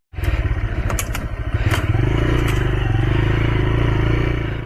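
A motorcycle chugs at low revs along a muddy path through a bamboo grove, its engine loud and close in a steady pulsing throb, with a few clattering knocks early on.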